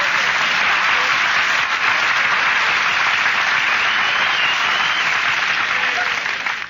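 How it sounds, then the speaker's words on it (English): A 1943 Christmas radio broadcast's studio audience breaks into sustained applause, a dense, even wash of clapping that holds steady throughout with no voices over it. "Nobody was supposed to applaud there"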